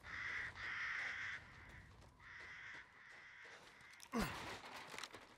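Crows cawing in the video game Resident Evil Village, a few harsh repeated caws up close, followed near the end by a sudden loud sweeping game sound.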